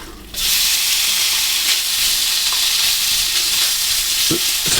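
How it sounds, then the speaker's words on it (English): Beef hits a hot wok for a Thai stir fry, bursting into a loud, continuous sizzle that starts abruptly and keeps hissing steadily as the meat browns. "we're going to put our meat into the wok. We're going to brown it"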